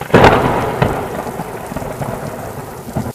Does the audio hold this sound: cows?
no